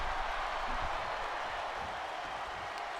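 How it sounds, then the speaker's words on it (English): A wrestling crowd cheers at a live tournament event, a steady loud roar of voices and applause that fills the space throughout. "You can hear the crowd light up when Katrina shot up after that split."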